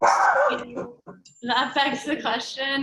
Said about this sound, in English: apologies for my dog who needs constant attention